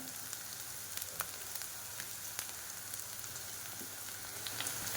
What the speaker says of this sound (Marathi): आपण मिरची मिरची भाजून घेत आहोत